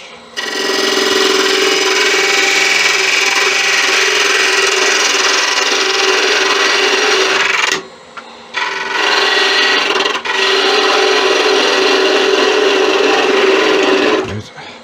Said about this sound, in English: I'm going to square off this end, because this bamboo root was way off the square when I got it.